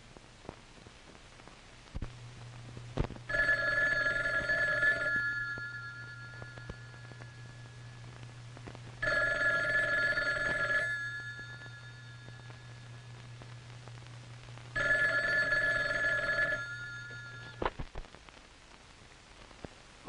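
An old-fashioned telephone bell in a 1957 film rings in three long bursts separated by pauses, clear and fairly loud over a low steady hum and faint hiss.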